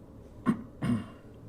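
Two short, throaty coughs about a third of a second apart, fairly close and moderately loud, with no talking around them.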